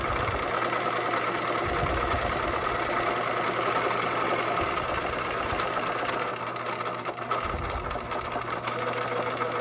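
A sewing machine topstitches the long edges of backpack straps at a regular stitch length, running in a steady, close mechanical whir with brief pauses and restarts.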